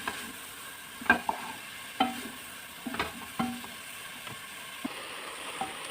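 Onions and garlic frying in a pan, stirred with scattered scraping and clattering strokes over a steady soft sizzle, close and moderate in level, with no talking.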